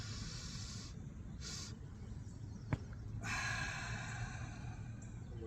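Deep, audible breaths are drawn in and let out during a breathing exercise, breathy hissing inhales in separate bursts with a brief sharp click in between, quiet and close, with no talking.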